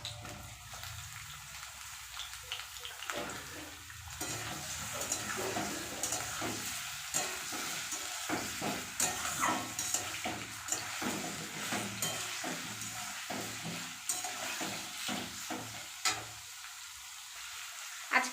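Chopped onions frying in a pan for a poultry chicken kasha, a steady sizzle broken by repeated scraping stirs throughout, moderately close with no talk.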